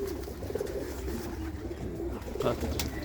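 Several pigeons at a fancier's loft give low, rolling coos in short bursts, near and moderately loud, with a steady murmur beneath.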